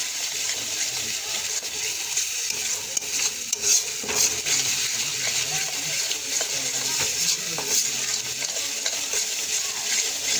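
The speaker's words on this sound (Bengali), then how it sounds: "আমি মশলাটা একটু কষায় নেব তো দেখো মশলাটা কষাইতেছি" Spice paste of ground onion, chili powder, turmeric and salt being stir-fried in a pan, with a steady close sizzle and intermittent scraping stirs and utensil clinks throughout.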